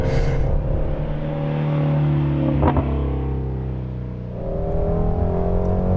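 Ford Mustang Shelby GT350 on a race track, its engine revving loud and close with a sustained howl that dips midway and builds again, steady throughout with no talk.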